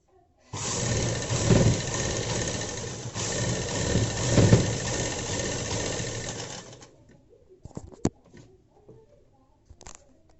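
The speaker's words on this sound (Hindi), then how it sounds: "इस पे रख के यही वाली सिलाई पे सीधी सिलाई लगा देंगे" A sewing machine runs a straight seam along a dress cuff in one continuous whirring burst of about six seconds, then stops, leaving a few faint clicks and handling noises.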